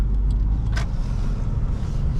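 A 2002 Honda Accord SE with a 4-speed automatic drives along, its steady low engine and road rumble filling the cabin throughout, with a brief faint squeak partway through.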